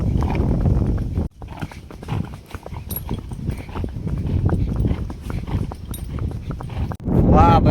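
A mare ridden along a village road in cool, rainy weather, her hooves clip-clopping in a steady rhythm up close, while someone talks over the hoofbeats throughout.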